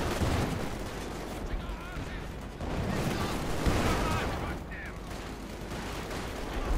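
Dense battle noise from Company of Heroes 2: continuous gunfire and crackling explosions with an RG-42 anti-personnel grenade among them, a dense wash of shots, under a commentator's talk.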